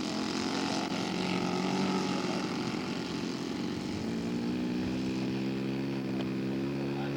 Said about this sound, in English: on his takeoff roll